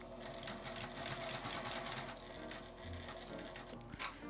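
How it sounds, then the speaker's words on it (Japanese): A sewing machine stitches fabric for a small round zippered pouch, running in a fast, steady mechanical chatter that briefly slows and pauses before resuming, close and fairly quiet. "ミシンを回して"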